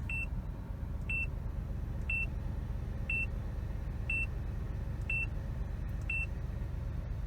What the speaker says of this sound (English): that beeping sound, it always happens every time you start the engine to show a warning